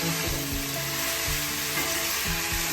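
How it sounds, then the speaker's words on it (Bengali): Fish frying in oil in a pan, being stirred and turned during a Bengali home-style cooking session; a steady, dense sizzle continues throughout with soft scraping of the stirring, close and fairly loud, with no talking. "মাছকে নাড়ে চেড়ে দিতে হবে।"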